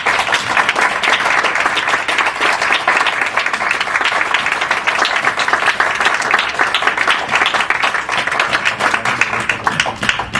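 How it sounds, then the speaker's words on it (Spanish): A seated audience at a poetry reading claps steadily and loudly throughout, a dense, even patter of many hands with no voices over it. "quería aprovechar esta ocasión para que todos le diéramos un gran aplauso a Lila y a Mariela"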